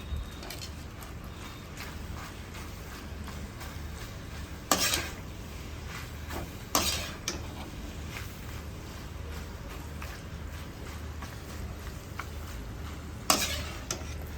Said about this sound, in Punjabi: ਪਾਸਤੇ ਵਿੱਚ ਮਿਲਾ ਲੈਣਾ ਰੈੱਡ ਸੌਸ ਨੂੰ ਨਾਲ ਹੀ ਪਾਵਾਂਗੇ ਆਪਾਂ ਮਲਾਈ